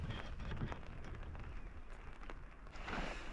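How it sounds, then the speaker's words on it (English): Steady rain pours down outdoors in the mountains, a dense, even hiss that holds without a break and swells slightly toward the end, with no voices. "the rain has closed in, so I think I'll have to wait for it to clear a little"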